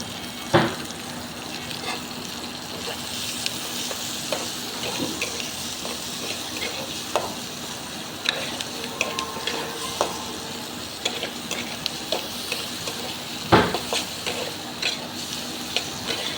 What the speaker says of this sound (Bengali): পেঁয়াজগুলো এখন সুন্দর করে লাল করে ভেজে নিব।